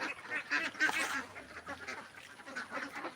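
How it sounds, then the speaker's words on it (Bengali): Many ducks quacking together on a duck farm of about five hundred birds, a noisy, overlapping chorus, steady throughout, with no talking over it. "এটা হলো আমার ছোট হাঁসের খামার"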